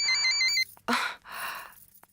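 A telephone rings in a quick electronic trill of rapid pulses for about half a second, followed by rustling and clunking noises.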